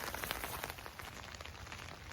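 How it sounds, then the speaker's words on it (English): Rain falls steadily on a garden in January, a dense close hiss of drops pattering on surfaces, fairly soft and continuous. "It's really raining out here"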